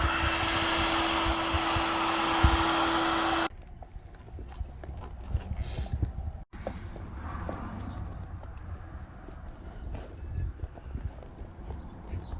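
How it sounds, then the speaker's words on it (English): A heat gun warming dry glue on a packraft repair, a steady loud blowing hiss that runs for a few seconds, then cuts off, leaving quieter handling and room noise. "So we can go ahead and start attaching that to the dry glue on the raft with the heat gun."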